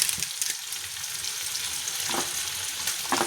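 Curry leaves hit hot oil and set off a loud, steady sizzle with crackling spatter for several seconds, no voices over it.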